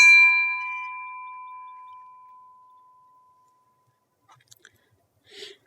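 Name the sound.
Cokesbury College bell ringing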